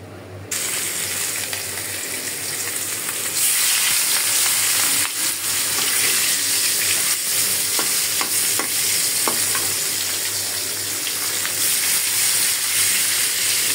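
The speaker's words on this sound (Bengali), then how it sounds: "মাছগুলো ভেজে নিচ্ছি।" Pieces of rohu fish fry in hot oil, a loud, continuous close sizzle with occasional crackles and stirring scrapes, swelling slightly after the first few seconds; no talking.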